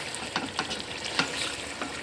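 Chicken korma masala fries in oil, a steady close sizzle with soft, regular scrapes of a spoon stirring through the thick mixture.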